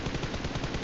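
Rapid bursts of gunfire in PUBG Mobile, dense and continuous, with shots overlapping in a steady rattling rhythm and no talking.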